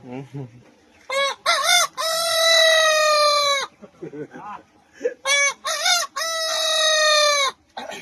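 Several loud, close rooster crows ring out in sequence, with short clucking and squawks between them.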